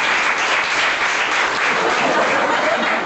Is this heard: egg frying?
no